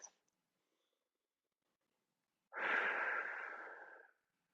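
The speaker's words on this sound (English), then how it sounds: "Maybe we can downshift with a few deep in and out breaths." A single long, deep breath of about one and a half seconds, soft and close, following a brief faint click, with silence around it.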